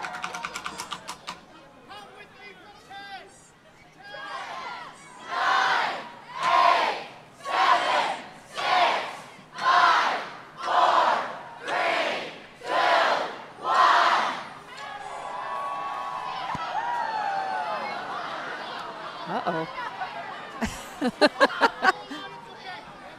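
A crowd at a Christmas light parade cheers in rhythmic bursts, a long series of swelling roars and shouts rising and falling in time, close and loud, then fading into scattered chatter and a few sharp claps.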